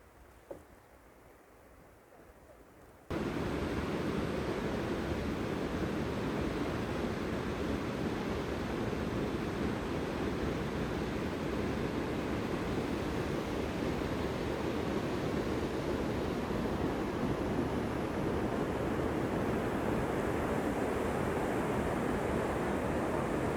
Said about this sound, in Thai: ฟังเสียงน้ำตก